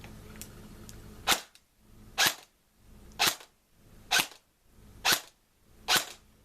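Six sharp reports from a modified M16 fired through a chronograph with its original barrel, evenly spaced about one second apart, loud and close with no talk between shots.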